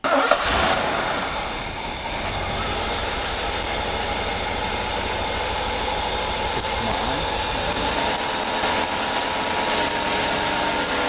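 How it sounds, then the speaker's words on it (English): A car engine with KE-Jetronic fuel injection starts up and settles into a steady, loud idle that holds evenly throughout. "Let us fire up the engine to see the difference of those two measurements."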